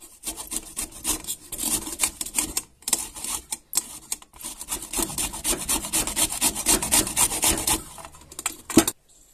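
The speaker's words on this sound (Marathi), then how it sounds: "इथे कैरी किसून घेतोय" Raw green mango is grated by hand for a village-style mango drink, giving close, repeated scratchy rasping strokes in uneven bursts with short pauses between.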